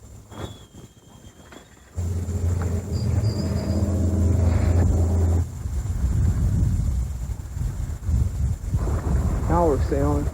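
A sailboat under way on Lake Wissota in western Wisconsin, with heavy wind buffeting and rushing past the microphone and a steady low rumble, while someone talks briefly partway through.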